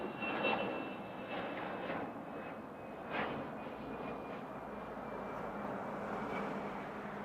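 A Boeing 747 jet departs Frankfurt Airport, its engines giving a steady, broad roar at some distance that stays fairly even throughout, with a slight swell near the middle and no talk.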